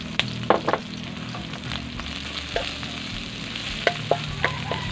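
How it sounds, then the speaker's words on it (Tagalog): Siling labuyo chili peppers frying in a hot pan, a steady close sizzle broken by sharp crackling pops and spits, with a few brief stirring scrapes. "Fried natin ito para masarap."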